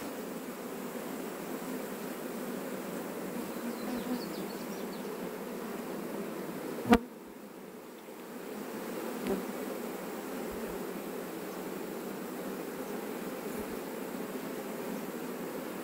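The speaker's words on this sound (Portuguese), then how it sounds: "As abelhas estão bem tranquilas." Bees from a wild colony living in a wooden stump close to a house hum in a steady, dense buzz throughout, with a sharp click or tap partway through and a brief dip in level afterward.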